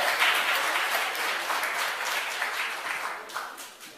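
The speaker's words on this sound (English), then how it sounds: "give you a big round of applause" A theater audience at the Apollo Theatre breaks into dense, steady applause that fills the whole stretch at an even, lively level before easing slightly toward the end.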